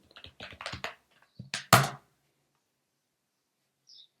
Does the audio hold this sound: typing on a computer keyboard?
yes